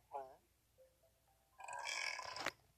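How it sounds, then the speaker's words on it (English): A cartoon character in the Toca Kitchen 2 video game lets out a long, loud, rasping burp after a brief vocal sound, with game audio quiet around it. "You always burp."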